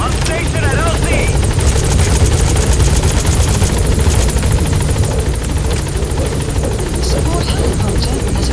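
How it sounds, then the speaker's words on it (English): Support helicopter arriving at a landing zone in Metal Gear Solid V, its rotor a loud steady thumping drone with a constant buzzing whine, close and continuous, with voices talking over it. "Support helicopter has arrived."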